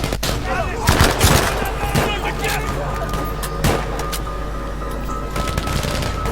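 Machine gun fire in the Battlefield V campaign, rapid bursts of shots crackling over a constant loud rumble of battle, with several sharper volleys standing out early and midway.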